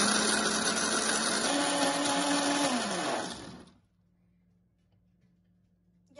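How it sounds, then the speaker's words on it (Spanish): A kitchen blender grinds washed beans with a loud, steady whirring roar for about three and a half seconds, then cuts off abruptly into near silence. "Los voy a moler en la licuadora, como están viendo."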